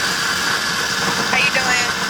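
Tuttio Soleil01 electric dirt bike motor running off throttle, a steady close whine and hum with a faint rising tone near the end.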